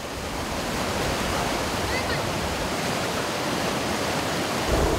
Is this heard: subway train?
no